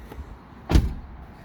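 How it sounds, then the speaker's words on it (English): A Ford Flex car door shuts with a single dull, fairly close thump, preceded by a faint softer knock, then quiet. "If I was to close the door"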